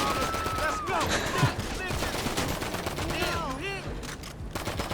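Video game gunfire in GTA 5 Online on a PS5: rapid bursts of automatic fire and scattered shots crackle throughout, with whistling sweeps and other game effects layered in.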